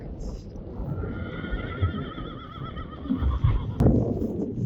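Friesian horse whinnying with a long wavering neigh, hooves clip-clopping over a pasture, with a person talking nearby and a sharp knock near the end.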